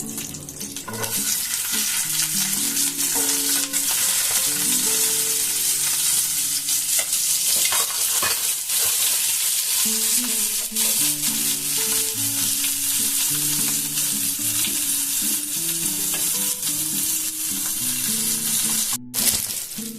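Onions fry in oil with bay leaves and a dried red chilli for chili soybean, making a continuous bright sizzle with periodic stirring strokes, while faint music plays underneath and nobody talks.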